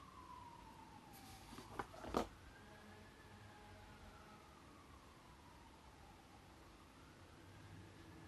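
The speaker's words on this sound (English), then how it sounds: "here comes the sirens again." A faint siren wails in the distance, its pitch slowly rising and falling over steady background hiss, with a couple of brief closer clicks early on.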